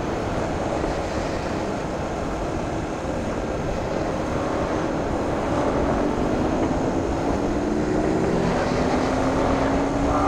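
Inside Kaybiang Tunnel, a motorcycle engine drones through a constant loud roar echoing off the walls, with a rising whine as it passes near the end.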